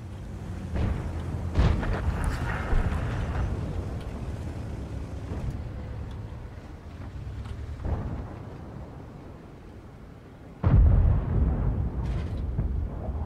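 A tank's ammunition rack detonating in an armored combat game, heavy booming blasts and rumbling impacts scattered through a low engine drone, with one sudden loud explosion near the end.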